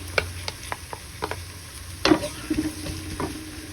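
Garlic sautés in a pan with onion and ginger for chicken tinola. A quiet sizzle runs underneath, and a utensil scrapes and taps against the pan now and then.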